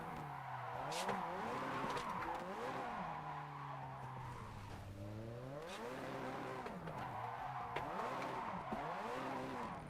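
Car in a racing video game driven fast with counter-steering, engine revving up and down in sweeping pitch changes with tire squeal, loud and continuous throughout.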